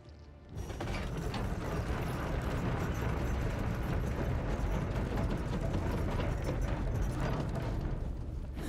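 A gate-opening mechanism in the video game Stray Blade kicks in after a brief quiet start, then grinds on as a loud, steady mechanical rumble with ratcheting clatter, alone with no talk.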